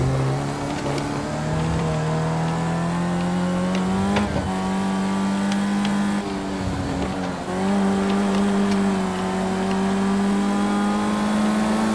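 A race car engine roars steadily in the Project Cars 2 game. It revs high and dips briefly around two downshifts before climbing again, sustained and loud throughout.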